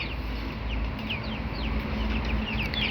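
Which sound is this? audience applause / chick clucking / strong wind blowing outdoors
chick clucking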